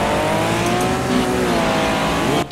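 Race car in a video game, its engine loud and close as it accelerates with rising, whining tones through a short run, ending abruptly.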